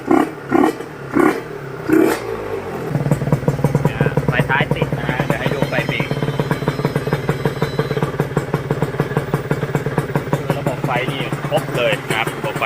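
A 2000 Yamaha TZR150 two-stroke motorcycle engine, blipped a few times then held at high revs with a loud buzzing rattle up close, while someone talks over it.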